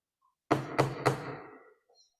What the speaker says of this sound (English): There's a knocking indeed.